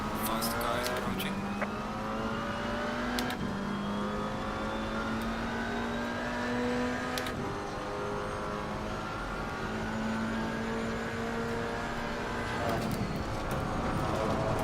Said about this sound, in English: Fast car is approaching.